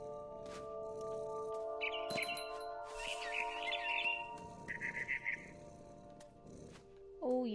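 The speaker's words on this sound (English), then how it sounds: "Then I heard chirping outside my window." A barn swallow chirps in the game What Remains of Edith Finch, with bursts of quick, bright chirping over soft sustained musical tones at moderate volume.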